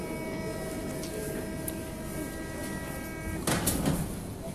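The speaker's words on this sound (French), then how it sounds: "On est toujours là dans le métro." A Paris metro train hums and whines steadily inside the carriage, with a brief louder rattle or clunk near the end.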